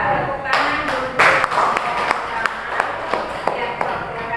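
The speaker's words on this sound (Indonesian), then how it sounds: "Ya, tepuk tangan dulu." Classroom audience clapping at a school presentation, a burst of scattered claps and taps close by, continuing unevenly for several seconds with some background talk.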